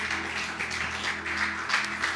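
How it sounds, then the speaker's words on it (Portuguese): Church congregation applauding during an early-morning worship service, a dense continuous wash of many hands clapping, steady and fairly loud with no talking. "Damos um aplauso para Jesus"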